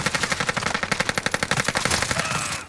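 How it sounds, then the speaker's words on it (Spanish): Rapid automatic gunfire in Call of Duty Warzone, a loud, close, evenly spaced burst of shots rattling continuously for a few seconds with no pause. "Nos están disparando."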